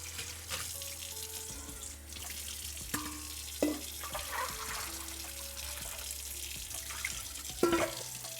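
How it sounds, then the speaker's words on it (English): Tap water runs steadily into a kitchen sink while a salad bowl that held salad components is rinsed out, with faint clinks and splashes over a constant broadband wash and no talking. "rinse out this old salad bowl that once held some of the salad components"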